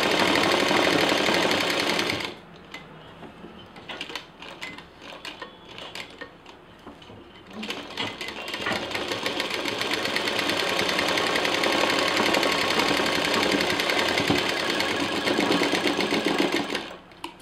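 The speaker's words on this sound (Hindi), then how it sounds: "अब जो हमने मशीन चलाई है उसी पे हम दोबारा मशीन चला देंगे।" Household sewing machine stitching a fabric seam on a hanging organiser, a steady fast whirring run that drops briefly, then resumes and holds loud and close to the end.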